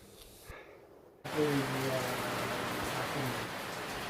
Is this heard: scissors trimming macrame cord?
no